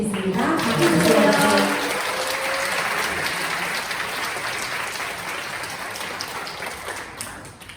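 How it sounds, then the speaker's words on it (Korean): An audience at a church gathering claps steadily for several seconds, loud and dense at first and then fading gradually, with a voice briefly audible early on. "박수 주세요."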